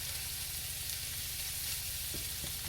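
Half a white onion and sausage fry in a skillet, making a steady dense sizzle with a low rumbling hum beneath and a couple of faint clicks near the end, continuous and even, no voices.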